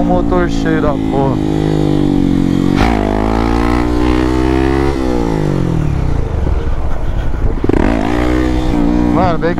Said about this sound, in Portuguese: Olha o motor cheio da porra.